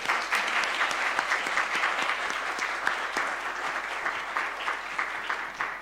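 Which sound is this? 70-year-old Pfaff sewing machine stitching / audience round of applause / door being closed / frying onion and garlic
audience round of applause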